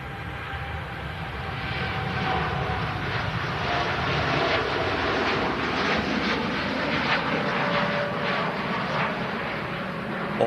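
A Boeing 787-8 Dreamliner jet on takeoff for Bridgetown, Barbados gives a broad, steady engine roar that swells slightly and holds at a distance for about ten seconds, without voices.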